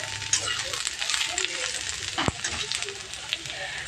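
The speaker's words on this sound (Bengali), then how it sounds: "দেখো প্রায় আমার এটা কিন্তু ভাজা, প্রায় বলতে কি ভাজা হয়েই গেছে এটা" Slices of pointed gourd fry in hot oil in a pan, giving a steady close sizzle with crackling bursts and occasional stirring clatter; a voice talks intermittently over it.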